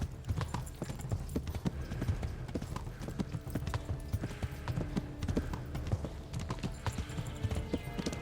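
Rapid, rhythmic hoofbeats of a horse galloping in the video game Kingdom Come, steady and continuous throughout with low thudding impacts and faint background game sounds.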